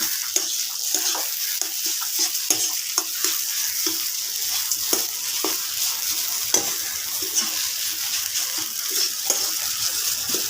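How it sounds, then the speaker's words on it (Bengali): Chili, cumin and coriander powder with a little turmeric are stirred in a frying pan for a soybean dhokar dalna, giving a steady, close sizzle with rhythmic spoon scrapes repeating throughout and no voices. "লঙ্কার গুঁড়ো, জিরের গুঁড়ো ও ধনের গুঁড়ো দিয়ে ভালোভাবে নেড়ে চেড়ে নেব"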